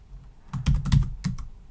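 Rapid clacking on a computer keyboard as Python code for a CyberPi project is typed, several close, loud keystrokes in quick irregular bursts with no talk.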